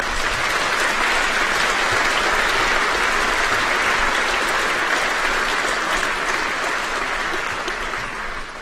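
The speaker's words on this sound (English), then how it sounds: "Give yourself a round of applause." Graduation ceremony audience applauding families and supporters: a dense, steady roar of many clapping hands filling the hall, sustained at full strength and tapering slightly at the very end.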